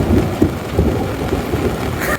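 Thunder rumbles loudly through a storm in St. Helens, Tasmania, with rain hissing underneath and a sharp crack near the end.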